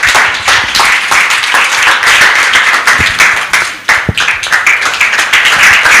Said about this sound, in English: We give her an Obama clap until she sits down.